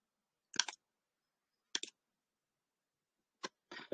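A computer mouse clicks in a quiet room, a few isolated double clicks spaced out over several seconds, close and crisp with silence between them.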